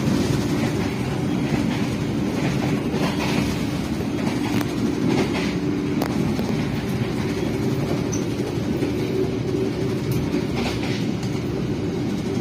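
Inside the KA Bima executive-class passenger train running from Gambir to Yogyakarta, a loud, steady rolling rumble of wheels on rails carries on throughout, with faint clicks and squeals over it and no talk.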